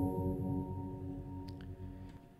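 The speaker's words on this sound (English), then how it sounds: "This is a straight up granular module preset out of Snap Heap." A granular preset from the Snap Heap module sustains a dense, droning texture with layered resonant tones and a grainy, shimmering high edge, steady and moderately loud, with faint brief ticks near the end and no voices.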